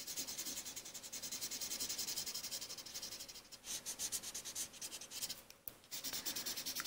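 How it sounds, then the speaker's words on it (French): Pencil coloring in a cartoon cat's pink triangle ears on paper, a close, steady scratchy rubbing of strokes that runs continuously with brief pauses, no talking. "Et on peut les colorier."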